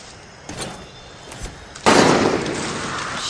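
Gunshots ring out in Far Cry 6, a few sharp cracks early on followed by a louder burst and sustained rattling noise, with no talk over them.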